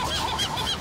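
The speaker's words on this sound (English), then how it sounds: "You like those seagulls, Buzz?" Seagulls call loudly and steadily in a series of overlapping honking cries, close by, with no talking over them.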